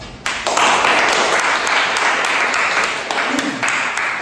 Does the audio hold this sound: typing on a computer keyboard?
no